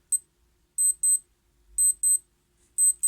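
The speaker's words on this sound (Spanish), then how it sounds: "nos va a generar obviamente el pitido con ese pequeño destello" High electronic beeps from a Casio B640WB digital watch, in quick pairs, repeating three times after a single opening beep, sharp and clear against silence.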